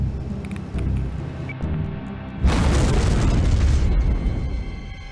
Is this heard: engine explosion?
yes